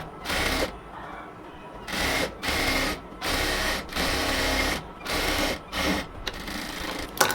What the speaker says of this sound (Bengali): সবগুলো অংশকে আমরা এবার পুরোটা সালোয়ারকে ডাবল সেলাই দিয়ে নেব।